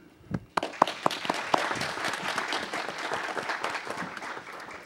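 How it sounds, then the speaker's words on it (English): Applause from a city council meeting audience for a deputy police chief, opening with a few sharp individual claps before a steady, moderately loud room-wide clapping that carries on evenly. "I really hope all of you give a big round of applause to Ed Medrano"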